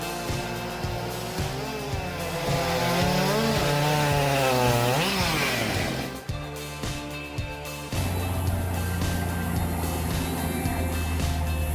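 A big chainsaw cuts into a tree with a loud, revving engine drone whose pitch climbs and bogs under load, then shifts to a rougher, steady cutting roar.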